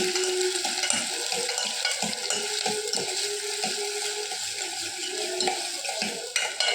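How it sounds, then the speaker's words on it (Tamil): Chopped onions sizzle and fry in a pan while being stirred, a steady close hiss broken by regular scraping and clinking of a spoon against the metal. "நல்ல நிறம் மாற வதக்கணும்"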